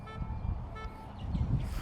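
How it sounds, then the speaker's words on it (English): Brief car horn toots sound near a park, quite faint and partly buried in low traffic rumble and outdoor background noise. "cars honking their horns."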